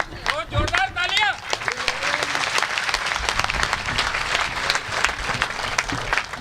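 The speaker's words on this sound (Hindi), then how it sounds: "जोरदार तालियां।" Loud, sustained applause from a large audience at a Hindi poetry recitation, with dense clapping filling the whole stretch; a brief whoop or cheer rises near the start.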